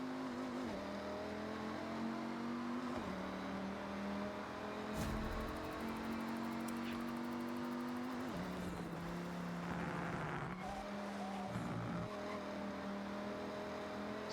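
In the Forza Horizon video game, a supercharged Viper-powered Dodge Ram SRT-10 pickup drives with a steady engine drone that rises and falls through gear shifts and revving, heard alone at a moderate, even level.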